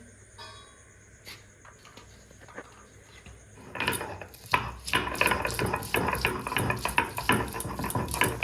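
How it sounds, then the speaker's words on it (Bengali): Ginger and garlic being ground together into a paste on a grinding stone, a rough rhythmic scraping that starts quietly and turns loud and steady after a few seconds, with no voices. "তেল কই রান্নার জন্য প্রথমে আদা রসুনটা বেটে নেবো একসঙ্গে"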